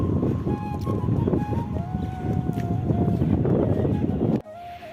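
Wind gusting against the microphone outdoors under an overcast sky, giving a continuous close rumbling buffet that cuts off abruptly near the end.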